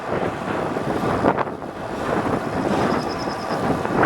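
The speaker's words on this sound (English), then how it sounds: "there's a bit of a wind, but not too bad" Strong, steady wind buffets the microphone while cycling with a continuous low roar, gusting slightly louder toward the end; no one speaks.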